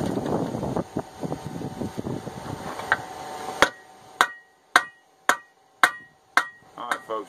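Hammer blows forging a point onto an old ball peen hammer being reshaped into a chipping hammer, first a busy patch of irregular knocks, then about eight sharp, loud, evenly spaced metallic strikes ringing out alone.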